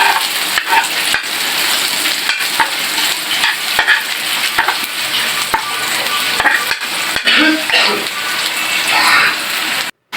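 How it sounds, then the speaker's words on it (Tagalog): Oil, garlic and onion saute in a pan with a loud, dense, continuous sizzle, broken by frequent spatula clacks and stirring scrapes, close up, cutting off abruptly at the end. "Naglagay na tayo dyan ng mantika, bawang at sibuyas."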